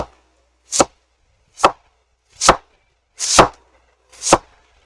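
Cabbage being chopped with a knife on a cutting board for grilled egg rolls, five crisp, separate chops spaced about a second apart, close and clear with silence between.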